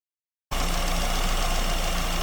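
A petrol engine fitted with an SU carburetor idles steadily just under 1,000 rpm, a close, continuous mid-pitched running note that starts abruptly after half a second of silence and holds with slight fluctuation.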